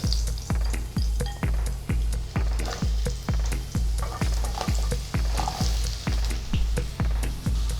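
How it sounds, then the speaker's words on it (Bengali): Bay leaves, asafoetida and cut potatoes fry in hot oil with a steady sizzle, broken by a regular series of soft low knocks that repeat about twice a second throughout. "তেজপাতার সঙ্গে হিং ফোড়ন দিলাম। ফোড়নটা ভাজা হচ্ছে, টুকরো করে কেটে নেওয়া আলুগুলো দিয়ে দিলাম।"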